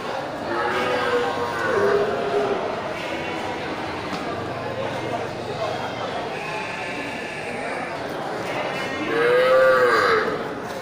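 Bali cattle low repeatedly at an outdoor livestock market, with several moos rising and falling over a dense, steady crowd murmur and background chatter.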